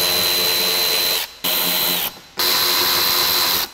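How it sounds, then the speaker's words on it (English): Impact driver spinning out bumper screws on a Honda Pilot, a loud close whirring buzz in three runs separated by short pauses, with the tone winding down at the end of each run. "I'm using an impact driver screwdriver for this."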